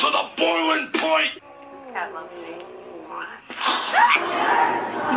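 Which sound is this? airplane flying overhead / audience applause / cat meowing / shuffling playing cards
cat meowing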